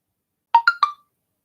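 A mobile phone gives a short ringtone of three quick bright chiming notes in a row, clear and close in an otherwise silent room.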